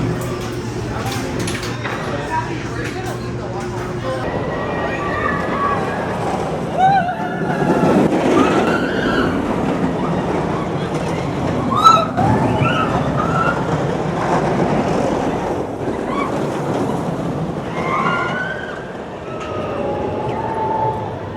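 A ride on the Silver Bullet roller coaster at Knott's Berry Farm rumbles and clatters along the track in a long rolling roar, with people talking and shouting over it.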